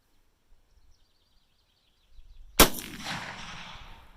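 A single sharp rifle report from a 357 Magnum Winchester 1892 lever-action with a 20-inch barrel, firing a 125-grain Hornady XTP hand load over H110 powder. The loud crack comes after a quiet outdoor lull with faint birdsong and rings out in a decaying tail.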